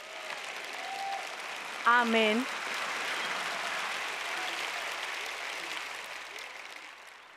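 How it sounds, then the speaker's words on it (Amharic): Applause from a church audience, a short burst of clapping that swells briefly and then settles into a low, steady patter under a wash of room noise, with a voice speaking briefly. "ከዚህ በላይ ጭብጨባ ጠብቄ ነበር፣ ነገር ግን ይቅር ብያችኋለሁ።"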